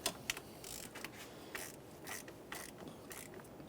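A ratchet on a 1994-1997 Honda Accord snugs up the distributor housing bolts, giving several quick, close clicking bursts in an irregular rhythm.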